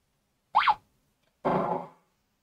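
Two short electronic sound effects from the Space Invaders arcade game, a quick warbling blip followed after a pause by a longer buzzy tone, both isolated against silence.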